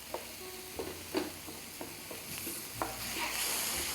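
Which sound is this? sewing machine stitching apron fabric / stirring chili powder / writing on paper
stirring chili powder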